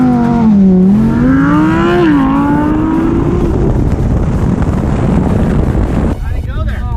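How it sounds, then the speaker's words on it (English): A BMW M4 and an all-wheel-drive Lamborghini Huracan Performante launch side by side, a loud engine note rising in pitch through the gears with heavy wind rush, then a sudden drop as the run ends. "M4 versus Huracan Performante launch control"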